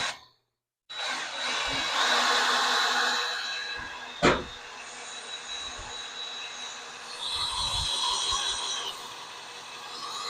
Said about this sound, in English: drop my step bit in there, and start drilling